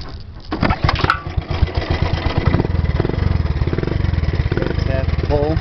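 A 1978 Honda ATC 90 three-wheeler starting on half a pull, a brief cranking clatter then a small single-cylinder engine catching and settling into a steady, rapid idle putter nearby.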